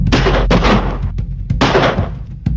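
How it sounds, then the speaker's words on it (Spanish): Loud gunfire in a commando-style shooting attack: several heavy, close blasts in quick succession with short gaps between them, and no voices. "a festejar el triunfo arrollador de Perón, es asesinado a balazos por un grupo comando."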